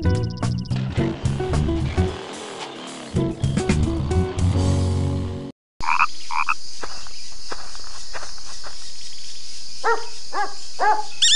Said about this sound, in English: Do you hear that dog barking?